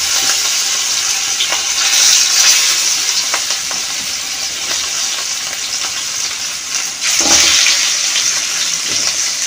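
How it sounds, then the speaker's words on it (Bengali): Fish dropped into hot oil in a pan for a yogurt-based fish curry, giving a loud, steady hiss of frying with a sharp surge of sizzling partway through, close and without talk. "দই মাছের কষা, ফোড়নটাও হয়ে গেছে, আমি মাছটা এবার দিয়ে দিচ্ছি।"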